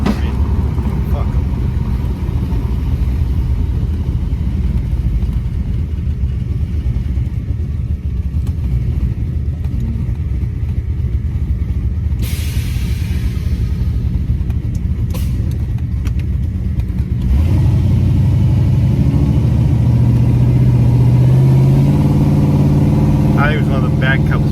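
Impala SS with a rebuilt 4L60E transmission driven on the road, its engine humming steadily under cabin noise with a few clicks, then revving up with rising pitch as it shifts; a voice talks intermittently.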